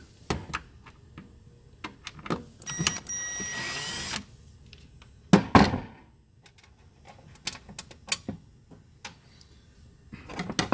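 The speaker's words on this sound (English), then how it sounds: "Drill a screwdriver, pop those screws out." A power drill whirs in short bursts, with a steady buzzing run in the middle, as it backs screws out of a sauna power control box, amid clicks and clatter of parts being handled nearby.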